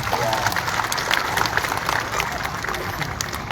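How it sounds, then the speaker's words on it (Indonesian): An audience at a school welcome event in Singaraja, Bali applauds, a dense, steady wash of many hands clapping at moderate distance, lasting a few seconds without a break. "Tepuk tangan dulu dong"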